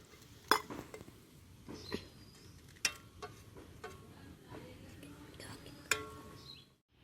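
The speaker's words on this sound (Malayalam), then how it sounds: "ആ ഫോർക്ക് വെച്ചിട്ട് നമുക്കിതൊന്ന് നന്നായിട്ട് പൊടിച്ചെടുക്കാം" A fork mashes cooked food for masala in a dish, giving a series of sharp clinks and scraping taps against the plate at irregular intervals, close up, with soft whispery voices in the background.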